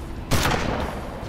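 A single loud gunshot in the video game Hard West, a sharp blast followed by a short rumbling tail, with no talking.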